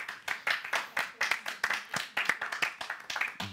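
A student TV talk-show audience claps steadily for a few seconds, a dense run of sharp hand claps at moderate volume.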